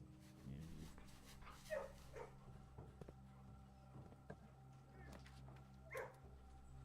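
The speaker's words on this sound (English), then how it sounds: "This dog wants pets." A dog in the video game Blue Prince whimpers and yips in short bursts over a steady, droning game soundtrack, with soft rustling in the background.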